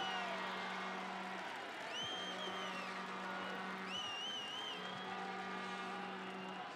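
A soccer stadium crowd roars and cheers steadily through a Sacramento Republic FC versus Arizona United SC match after a red card, with a sustained horn-like drone and rising whistles or shouts swelling above the dense crowd noise.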